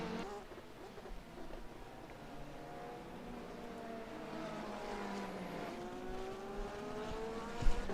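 On-board engine of a Ferrari race car in a sports car racing game at Silverstone, a buzzing whine rising and falling through gear changes, fairly faint, with a brief thump at the end.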